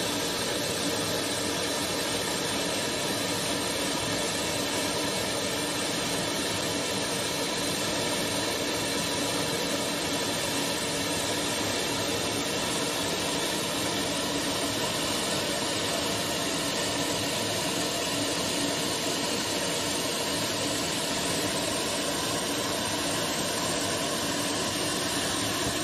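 Steady, loud roar of aircraft jet engines idling on an airport tarmac, a continuous broadband wash with no talking and no change in level throughout.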